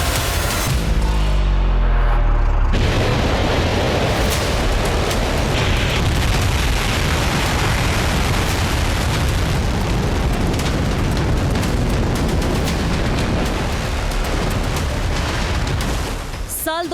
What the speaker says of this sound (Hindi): किम जोंग का तीसरा धमाका